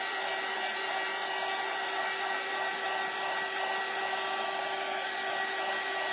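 A hair dryer blows steadily on a craft pumpkin shelf sitter, a constant close whoosh with a faint steady whine and no talking.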